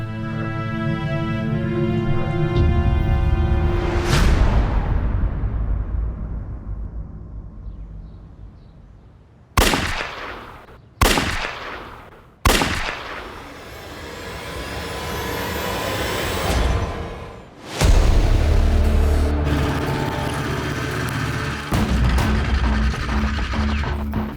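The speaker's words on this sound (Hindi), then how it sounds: "सर पड़ोसी ने 3 गन शॉट्स की आवाज सुनी है" Three sharp, loud shots ring out in quick succession inside a house, breaking through a heavy, droning background that later swells again.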